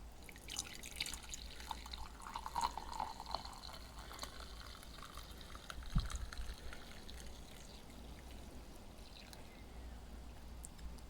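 Hot coffee is poured through a stainless steel mesh filter at an off-grid camp, making faint, continuous trickling and dripping with a few louder splashes, heard alone and close.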